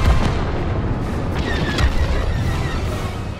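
A Republic cruiser blows up in a Star Wars Battlefront II starfighter battle over Kamino, a dense, sustained low rumbling boom with crackling debris noise rolling on for several seconds.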